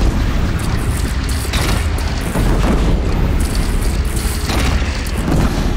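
Heavy booming cannon fire and explosive rumble in Horizon Zero Dawn, a dense, loud, continuous roar of blasts with no clear gaps between them.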